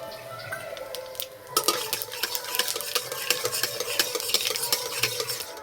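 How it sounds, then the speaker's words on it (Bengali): Dried red chillies and five-spice (panch phoron) hit hot mustard oil in a kadai for a jujube pickle. A sudden loud sizzle bursts in after a quiet moment, then a steady close crackle runs on with utensil stirring and clinks. "তেলে দেবো শুকনো লঙ্কা 5 ফোড়ন।"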